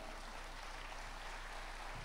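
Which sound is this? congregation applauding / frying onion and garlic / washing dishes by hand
congregation applauding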